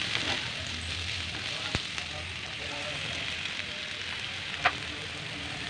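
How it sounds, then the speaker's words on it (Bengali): Spices frying in hot oil in a pan, a steady soft sizzle with faint crackles and an occasional sharp tap of a utensil against the pan, quiet and close. "ভালো করে মশলাটাকে কষিয়ে নিচ্ছি।"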